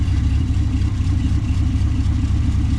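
A car engine with a newly fitted exhaust runs steadily, a deep, constant idle rumble close by with no change in pace.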